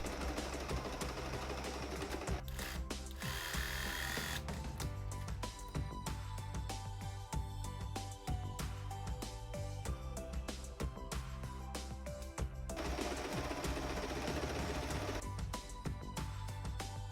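Domestic sewing machine stitching trousers from a Burda pattern, running in long continuous bursts with a steady mechanical whir and rapid needle clatter, close and fairly loud, with one brief pause.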